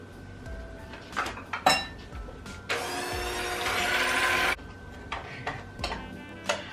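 Keto butter cream pie filling gets mixed in a bowl, with utensil clinks and taps against the dish, then a few seconds of steady motor whir from an electric mixer before more scattered clinks.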